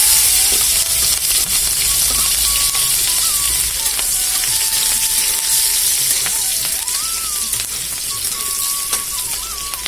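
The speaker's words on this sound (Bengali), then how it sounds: "মিষ্টি কুমড়ো ভাজাতে আজকে ফোড়ন দিয়ে নিলাম লঙ্কা কুচি আর রসুন কুচি।" Chopped chili and garlic sizzle steadily in hot oil as the seasoning for a pumpkin fry, a loud, close, continuous crackle with faint clinks of stirring over it.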